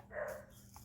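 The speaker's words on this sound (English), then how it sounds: "Pardon my dog. He wants out" A dog gives a single short bark, close but fairly soft, over a quiet garage-like background hum.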